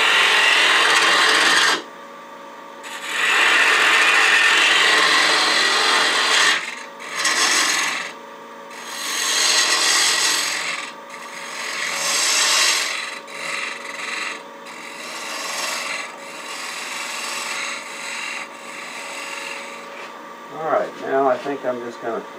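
A half-inch spindle gouge cuts a wooden wig stand spinning on a lathe, giving a loud, rasping, scraping hiss in long bursts with brief pauses between passes. A voice talks over the cutting.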